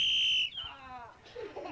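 A loud, sustained whistle blast opens sharply, then cuts off and gives way to voices talking.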